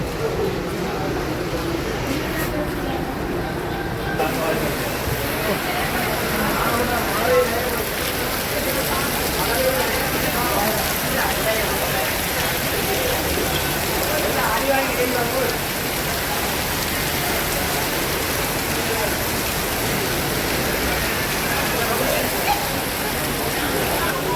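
Heavy rain pouring steadily during a sudden flood in Jaffna, a dense continuous hiss of drops hitting surfaces with no letup across the whole stretch.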